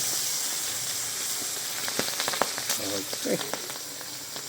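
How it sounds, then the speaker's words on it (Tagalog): Chicken pieces frying in hot oil for crackling, giving a steady loud sizzle with scattered pops and crackles throughout, and a brief spoken word partway through. "Parang chicharon tumutunog."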